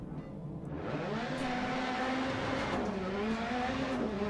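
A VW Polo rally car in the Dirt Rally racing game pulling away in second gear, its engine note holding steady then rising and falling through revs, loud and continuous with gravelly road noise underneath.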